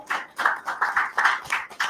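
A crowd claps for Baltimore during a live online class roll call, with several quick bursts of applause at a steady rhythm, moderately close and with no talking over it.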